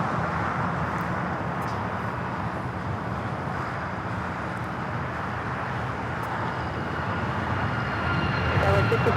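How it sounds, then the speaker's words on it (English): An Alaska Airlines Boeing 737 MAX airliner takes off at LAX, its engines giving a steady, broad jet roar that holds for the whole stretch and swells slightly louder near the end. "This is Alaska Airlines 1398 taking off to Mazatlan on the MAX"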